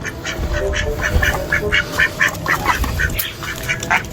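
A duck quacks in a quick, steady series of nasal calls, close by, over a low background rumble.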